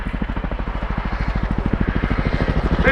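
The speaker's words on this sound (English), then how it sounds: "the unmistakable sound of the Chinook's blade flap offered assurance to those on the ground" An RAF Chinook helicopter at the Cosford Airshow thuds overhead with a steady, rapid rotor blade flap, loud and rhythmic, with no talk.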